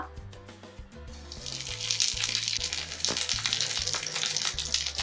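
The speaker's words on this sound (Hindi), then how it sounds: "ये हमारा तेल गरम हो चुका है। अब हम इसमें डालेंगे जीरा" Cumin seeds hit hot oil in a pan for bhindi sabzi, a close hiss that swells into a loud, steady sizzle after the first second.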